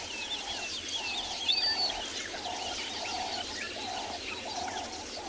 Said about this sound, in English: All birds singing about, getting excited since the sun is coming up.